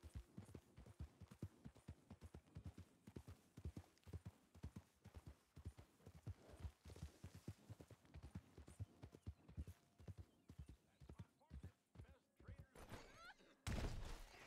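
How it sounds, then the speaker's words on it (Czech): A horse in Red Dead Online clip-clops along in a steady, even trot on hard ground. Near the end the rhythm breaks into a sudden scuffling clatter and thud as the horse stumbles. "Jak o co tam ten kůň mohl zakopnout vůbec?"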